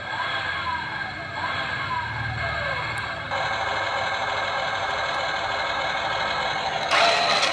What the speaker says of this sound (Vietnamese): xe bắt đầu nổ máy